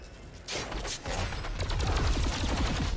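Rapid automatic gunfire in the sci-fi shooter video game Alienation, dense bursts of shots rattling continuously after a brief quieter opening, loud and close.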